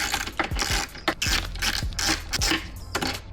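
A ratchet loosening a 6mm hex bolt on a Yamaha R9 motorcycle, rapid clicking pawl ticks in quick close bursts with small metallic knocks.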